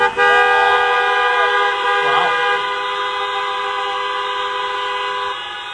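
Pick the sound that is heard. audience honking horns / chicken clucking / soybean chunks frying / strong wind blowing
audience honking horns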